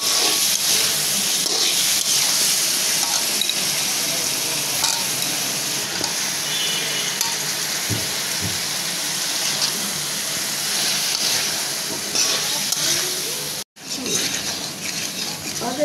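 Pangas fish heads with potato, papaya and snake gourd fry in oil in a pan, giving a loud continuous sizzle and hiss with occasional stirring scrapes, close to the mic, and brief speech over it.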